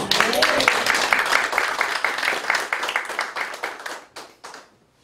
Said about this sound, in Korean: 감사의 박수를 드립니다